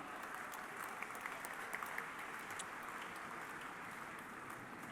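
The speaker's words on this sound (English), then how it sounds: "so we can give her a round of applause as well" An audience at an Apollo 9 50th anniversary event gives a round of applause, soft and fairly distant clapping that holds steady at low volume with a few sharper claps standing out.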